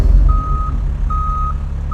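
A semi truck carrying a full load of donuts and grease backs up, its reversing alarm sounding repeated long, evenly spaced beeps over a deep, rumbling idling engine nearby.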